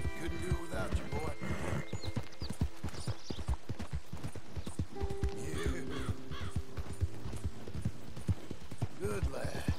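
Hooves clip-clop in a steady, rapid rhythm in the video game Red Dead Redemption 2, close and continuous, with an occasional horse snort or whinny and faint ambient tones.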